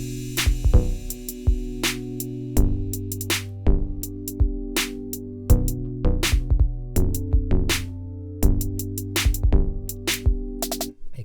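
A piano part plays a funky rhythmic bass line with the right hand removed, over a Logic drummer track whose sharp kit hits punch through a repeating groove, with no talk.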